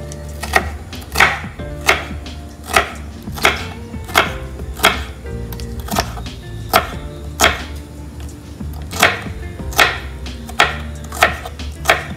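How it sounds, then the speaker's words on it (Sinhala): A knife chops food thinly on a board in a steady rhythm of distinct, close, sharp knocks, about one per second, with no talking. "මේක තීනියට කපා ගන්න ඕනේ"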